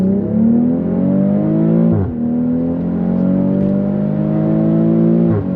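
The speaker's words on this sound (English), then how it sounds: "See, I still hear that when I'm accelerating. So like you still hear the engine and it sounds good." BMW X3 M40i engine accelerating, a loud close rising drone with a brief dip around each gear change, then climbing again with no talk.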